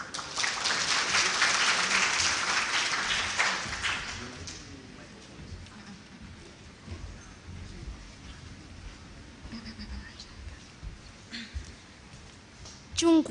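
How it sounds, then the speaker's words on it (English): An audience at a celebration of Chinese government scholarships gives a burst of applause to welcome a martial arts troupe. The clapping is loud for about four seconds, then fades into softer room noise and scattered sounds. "let us welcome them with a applaud of a clap"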